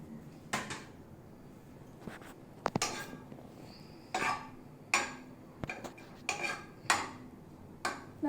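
Garlic, ginger and chilies going into a pan for a clear vegetarian soup, heard as a run of sharp metallic clinks and scrapes of utensils against cookware, irregular and close, with no talking.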